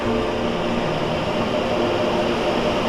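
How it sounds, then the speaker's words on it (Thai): Cooling fan of an electric car DC charging station running at the start of a charge, a steady close broadband whir with a low hum underneath, alone without talk. "เสียงพัดลมดังแล้ว"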